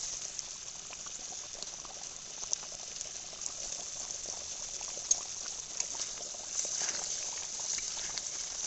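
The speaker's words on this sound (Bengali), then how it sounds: "এই যে ডিমের কারিটা আমার ফুটছে, দেখো জল দিয়ে দিয়েছি।" An egg curry bubbles steadily in a pot at a gentle boil, a soft continuous simmering with small pops throughout.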